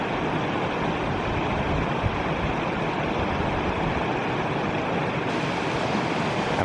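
A waterfall in the James Peak Wilderness roars as a steady, dense wash of rushing water, unbroken and fairly loud throughout, with no voices.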